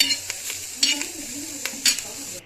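Coriander dry-roasting in a pan over a lowered gas flame for a Marathi dal bati thecha, giving a light steady sizzle with several sharp scraping stirs and clinks, close and fairly quiet.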